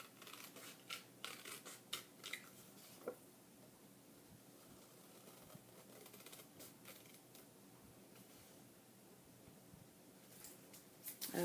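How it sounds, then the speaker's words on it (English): Scissors trim the edges of a photo by hand for a scrapbook page: faint, close snipping and crisp paper cuts in short clusters, with quiet rustling between them. "this time I think I'm going to just trim it by hand because I like the edges on this photo"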